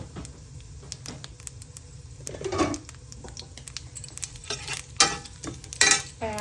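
Potatoes with panch phoron and bay leaves frying in oil, a low steady sizzle broken by occasional scrapes and clinks of a spoon stirring in the pan, close by, with no talking.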